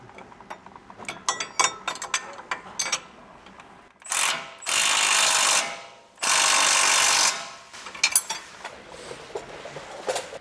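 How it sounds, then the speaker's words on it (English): A hand ratchet clicks in quick rapid bursts while tightening the lower strut bolt during a lift kit install on a Toyota Tacoma, broken by two longer, louder sustained stretches of ratcheting, close and without talk. "now I'm going to go ahead and tighten the bottom bolt on our strut"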